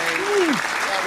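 Dense audience applause at a comedy game show, steady clapping from a crowd with a brief voice rising and falling over it.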